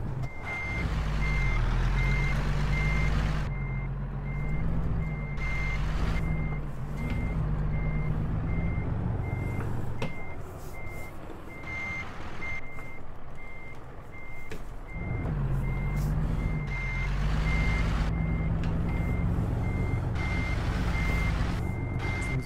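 A truck's reversing alarm beeps in a steady, evenly spaced pulse over a low diesel engine rumble that rises and drops as it maneuvers backward in American Truck Simulator, heading to a refinery.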